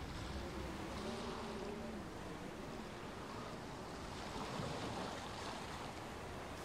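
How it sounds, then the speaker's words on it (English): Steady wind and lapping water ambience in the survival video game DayZ, a continuous broadband rush with no clear events, moderately loud throughout and no speech. "No, just hear wind and water."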